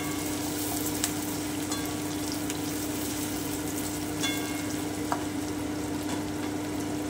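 Garlic and onion frying in a pan with low heat, a steady soft sizzle with a few faint scrapes and clinks of stirring, close but quiet.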